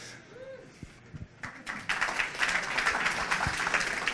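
An audience claps for a speaker at a talk on hop flavour in the hops industry; the applause builds from scattered claps into a full, sustained round that fills the room.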